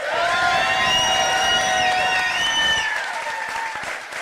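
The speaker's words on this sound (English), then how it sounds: "Please give her a round of applause." A crowd at a political concession event applauds and cheers for a candidate's wife, loud clapping with sustained whistles and cheers riding over it, fading slightly toward the end.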